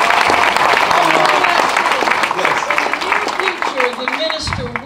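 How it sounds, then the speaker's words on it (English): A crowd applauds with dense, steady clapping, while a voice speaks over it. "Let's give all of our panelists a round of"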